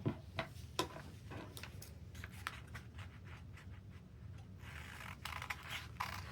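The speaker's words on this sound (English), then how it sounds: "I'm going to cut that out" Scissors snipping through folded fabric to cut a sewing pattern for bib overalls, a steady run of close, soft ticking cuts and scrapes with no talk.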